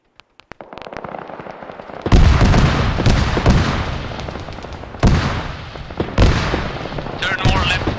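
A BMP gunner fires in Arma 3 at a Syrian factory: dense, loud bursts of gunfire and heavy weapon blasts roll continuously after a few sharp opening shots, with voices faintly beneath.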